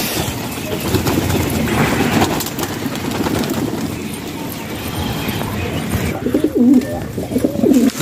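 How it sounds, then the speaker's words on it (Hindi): Pigeons coo in a loft, soft repeated throaty calls near the listener, with rustling and someone speaking at times among them. "जो कबूतर बाकी बैठे हैं ना पीछे उनको भी निकाला है बाहर"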